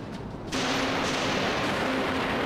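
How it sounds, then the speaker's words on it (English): Missiles and torpedoes launching in a Dreadnought space combat game: a sudden loud whooshing blast erupts after a short lead-in and holds as a broad roaring rush with a faint steady tone underneath. "Launch missiles. Launching torpedoes."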